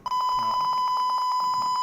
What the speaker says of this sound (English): here you can see my LED is also glowing and buzzer is also ringing